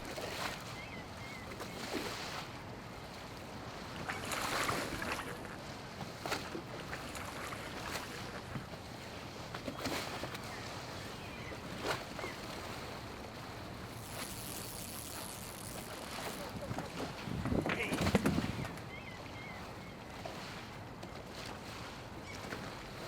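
A boat rides on open sea off Baja, with waves washing and wind gusting against the microphone, and intermittent splashes and knocks throughout, during a morning of fishing.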